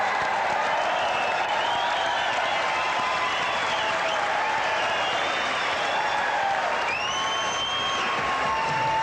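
Boxing crowd at a WBC championship bout between Lewis Howard and Engels Pedroza, a steady dense roar of cheering and applause filling the arena, loud and continuous with rising whistles and shouts over the wash.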